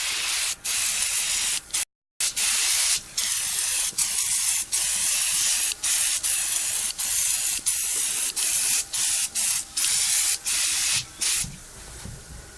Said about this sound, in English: So, sprayed it on, leave it for 10 minutes.